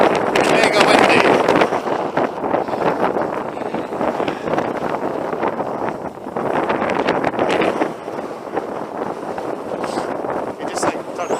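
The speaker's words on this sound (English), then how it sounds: "but it's mega windy." Gale force wind sweeps across the Pentland Hills near Edinburgh during a trail run, roaring and buffeting the microphone in heavy, surging gusts, with a voice partly buried in the noise.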